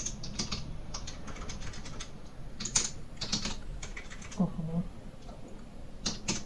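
SQL values being typed on a computer keyboard, rapid irregular clicking of keys in short runs, close and moderately loud, with a brief faint voice.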